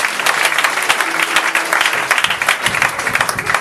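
A church congregation gives loud, sustained applause for the Lord, with dense clapping that fills the space and stays close and continuous throughout, and a few voices faintly mixed in.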